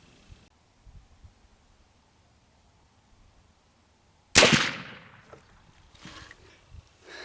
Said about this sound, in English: So I'm going to take the first shot, and we'll see what happens from here on out.